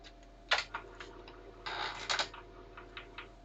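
A Commodore 1571 floppy drive grinds and clatters through a speed test, giving off irregular mechanical ticks and two louder rasping bursts over a steady low hum.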